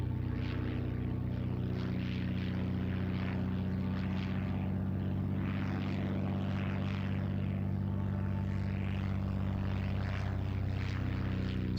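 A replica Albatros biplane with a propeller engine flies at the RIAT 2003 air show, a continuous steady droning hum with a fluttering engine note, moderately distant and unbroken throughout.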